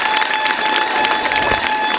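Audience applause for a quiz winner at a Shivaji Jayanti school quiz event, a dense steady wash of many hands clapping close and loud for the full length, with no voices over it.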